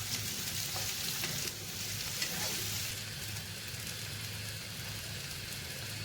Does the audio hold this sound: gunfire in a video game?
no